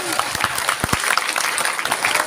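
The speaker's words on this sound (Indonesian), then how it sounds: "tepuk tangan buat Banten" Audience at an Islamic New Year 1444H religious gathering applauds steadily, a dense continuous clapping with a few sharper claps standing out near the front.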